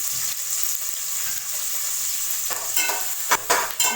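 Onions sautéing for tomato rice, a steady close sizzle with stirring scrapes in the pan, growing busier and louder toward the end.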